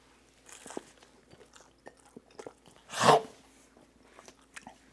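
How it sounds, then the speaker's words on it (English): A bite taken from a Guinness burger topped with butter, heard as a single close crunchy chomp followed by faint soft chewing and small mouth noises in a quiet room. "And it's time to give it the old-fashioned chomp."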